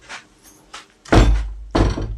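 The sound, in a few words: closing a room door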